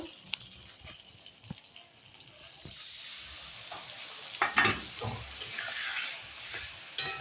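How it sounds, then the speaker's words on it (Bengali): Flat beans frying and being stirred in a pan, a soft continuous sizzle with occasional clinks and scraping, growing slightly louder partway through. "আমার শিম কিন্তু সিদ্ধ হয়ে গেছে, একটু ভাজা ভাজা হয়ে গেছে"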